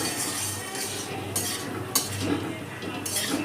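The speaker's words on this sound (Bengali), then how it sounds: "গ্যাসের ফ্লেমটা অফ করে দেওয়ার পর আরও একটু এরকমভাবে নেড়ে নিচ্ছি" Cooked nota saag greens being stirred in a pan just after the gas flame is turned off: soft scraping stirs with a couple of light utensil clinks over a faint residual sizzle.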